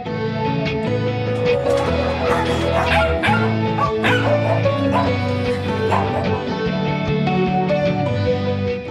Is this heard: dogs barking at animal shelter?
yes